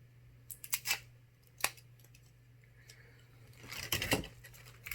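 Plastic wrap being pulled and peeled off a subscription beauty box makes faint, scattered crinkles and scratchy rustles in short bursts, with a longer crackling stretch near the end, over a low steady hum.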